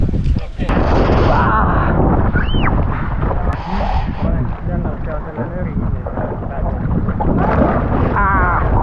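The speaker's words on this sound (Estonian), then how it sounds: "siin on tuul natuke." Wind gusting across open water at a father-and-child surf camp, a loud, steady roaring rush buffeting the microphone, with voices talking and calling over it throughout.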